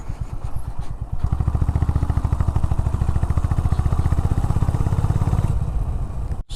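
Honda H'ness CB350 motorcycle engine while riding, a steady loud low thumping rumble with even rapid pulses that holds its pitch for several seconds before briefly dropping off at the end.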